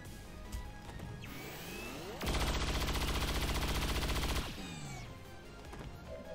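A rapid burst of automatic gunfire in the video game XCOM 2, loud and lasting about two seconds, set within game sounds that include sweeping whooshes before and after.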